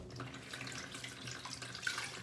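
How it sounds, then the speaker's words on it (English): Washed sheep fleece being squeezed by hand, wringing water out in a soft, continuous trickle and splatter, quiet and close, with no speech. "I'm just going to squeeze the water out and put it on top of this rack"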